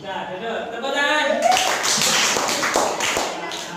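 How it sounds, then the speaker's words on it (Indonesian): Children in a classroom clap together after a teacher's voice trails off, the applause starting about midway as a cluster of quick, uneven hand claps at close range. "Tepuk tangan."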